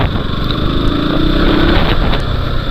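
A KTM RC 200 motorcycle engine roars loud and close, a continuous rough, buzzing drone that holds steady for the whole stretch, with no talk over it.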